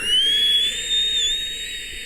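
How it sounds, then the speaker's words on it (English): A strange, thin whistle-like tone with added distortion glides slowly upward and holds, wavering slightly, over a steady hiss, fairly quiet and alone. "It was like a weird whistle note."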